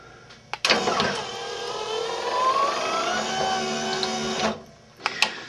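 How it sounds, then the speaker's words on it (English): A power window motor lying sideways drives a replica Lamborghini engine cover, giving a steady, close whirring hum that runs for about four seconds between sharp clicks at start and stop. "you can see there is a power window motor laying down sideways, and there it goes"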